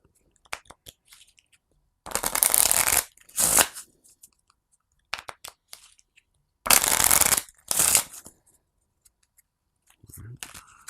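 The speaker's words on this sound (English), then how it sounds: "Shuffle these up." Cards of the Dragon Dell board game being shuffled, heard in two pairs of loud riffling bursts separated by pauses, with faint handling clicks and taps between them and no talking.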